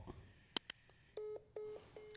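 Telephone dialing tones: a couple of short clicks, then several distinct steady DTMF beeps in an uneven sequence, close and clear over a quiet room.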